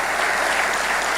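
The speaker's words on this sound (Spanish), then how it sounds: "Fuertes aplausos a nuestro Dios." Church congregation applauding during a worship service, a dense, steady wash of many hands clapping that fills the clip at a close, even loudness with no talk over it.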